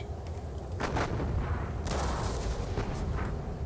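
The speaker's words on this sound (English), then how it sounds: "Open up with artillery then, up in the north, straight away from Althoff" Artillery bombardment in the John Tiller Napoleonic Series at the Battle of Eylau: dense, continuous cannon fire with overlapping booms and rumbling volleys, loud throughout, with no talking.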